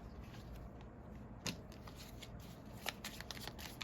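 A deck of cards being riffled and shuffled, soft and close, with a sharper flutter near the middle and another toward the end.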